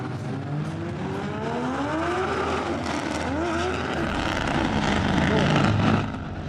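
Drift car accelerating hard on a run, engine note rising in pitch with rising harmonics, gear changes audible, loud and close with continuous tire and exhaust noise; voices faintly present.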